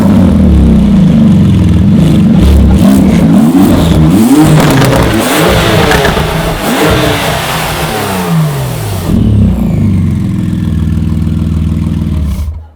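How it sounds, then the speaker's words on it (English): Porsche GT2 RS turbocharged engine revving hard with its exhaust set to maximum loudness, a loud close sustained roar rising and falling through several revs, then settling to a rumbling idle before cutting off. "And so let's see just how loud it is on maximum."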